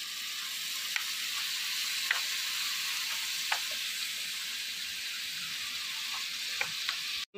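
Boneless chicken cooking in a pan with soy sauce for chicken Manchurian: a continuous crackling sizzle broken by sharp, occasional clicks of a spatula stirring, moderately quiet and close, no speech.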